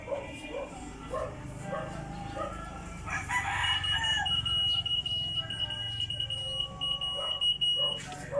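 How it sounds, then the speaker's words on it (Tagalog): Alarm from an Arduino-based smart chicken coop after a breach, a steady high electronic tone that starts around the third second and holds to the end, mixed with nearby rooster crowing and clucking. "the chicken coop should sound the alarm"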